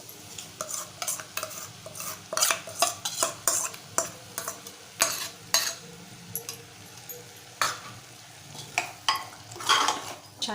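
An onion-coconut paste is stirred into spices in a pan for Malvani-style sprouted white peas, with rapid rhythmic scraping strokes and light sizzling, close and moderately loud, pausing briefly midway.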